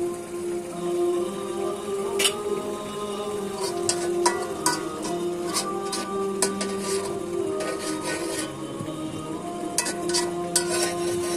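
Fried fish being stirred into a spice masala in a pan for a sour-leaf fish curry, giving a steady sizzle with repeated scraping and clinking of the spoon against the pan, close and continuous with no talk.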